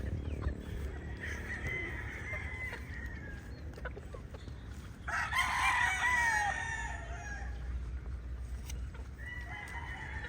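On a farm, chickens cluck softly under a steady outdoor hum while a rooster crows loudly once in the middle, its drawn-out call standing out clearly before fainter clucks return.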